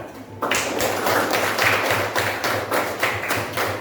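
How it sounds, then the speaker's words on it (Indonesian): A small group claps together in a classroom-style session, an uneven patter of hand claps starting abruptly and continuing at moderate loudness throughout. "Ya, tepuk tangan."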